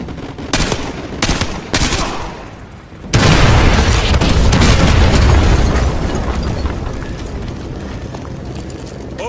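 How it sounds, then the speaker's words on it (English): Artillery strike in Call of Duty Modern Warfare: scattered gunfire cracks give way to a massive explosive blast at about three seconds, followed by a long rolling rumble and debris that slowly fades, loud and close. "Fire mission received. Artillery inbound."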